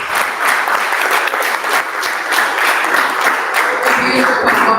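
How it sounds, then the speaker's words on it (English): Steady audience applause for University of Ghana theatre students at the Ghana Pavilion, a full, even round of clapping from a crowd that carries through without pause. "Can you please give them a round of applause?"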